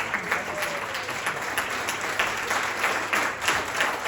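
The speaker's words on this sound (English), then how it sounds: "Another round of applause, please," Wedding guests applaud the father of the groom: a close, full burst of hand clapping with a steady roar and a few sharper accents, continuing for a few seconds without speech.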